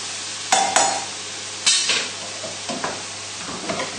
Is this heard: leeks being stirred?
yes